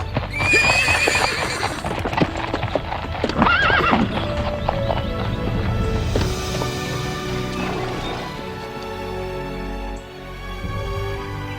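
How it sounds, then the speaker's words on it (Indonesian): A horse ridden along a path gives steady clip-clopping hoof beats close by, with loud neighs and whinnies breaking out over the rhythm in the first few seconds. "Dia terus berkuda dan berkuda tanpa henti"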